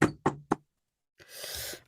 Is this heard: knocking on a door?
yes